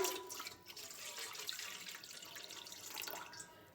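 Water pours steadily into a cooking pot for an herbal kadha, a continuous soft splashing stream heard close and quiet with no talking.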